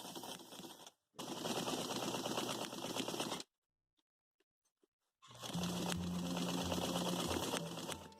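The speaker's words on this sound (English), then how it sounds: "stitch 1/4 inch down the front of your shirt" Sewing machine stitching shirt fabric: steady close mechanical whirring in two long runs, broken by a brief stop and a longer gap of near-silence with a few small clicks, with no talk.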